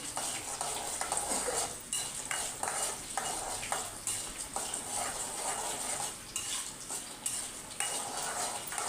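Steady close-up sizzle of lentils frying in groundnut oil, with a spoon scraping and stirring against the pan throughout.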